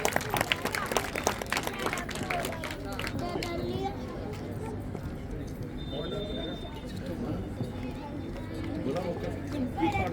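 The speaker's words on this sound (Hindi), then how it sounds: "तालियां।" Children and adults clap at a school Republic Day celebration, a quick flurry of claps at the start that fades into crowd chatter, running footsteps and voices talking nearby.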